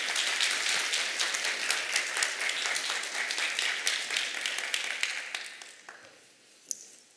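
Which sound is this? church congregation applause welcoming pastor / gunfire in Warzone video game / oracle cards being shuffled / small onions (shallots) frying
church congregation applause welcoming pastor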